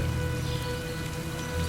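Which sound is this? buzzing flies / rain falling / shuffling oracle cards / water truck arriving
rain falling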